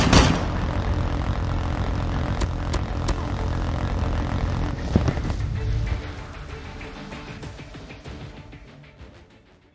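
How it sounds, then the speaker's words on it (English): A friendly hunter-killer drone from a video game flies overhead with a loud continuous propeller-engine drone that holds steady, then fades gradually as it moves away. "Friendly hunter-killer drone deployed."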